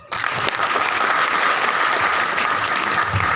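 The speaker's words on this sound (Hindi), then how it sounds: "ताली बजा दीजिए" Steady audience applause at a Hindi business talk, dense and continuous clapping at full volume from start to finish, with no talking over it.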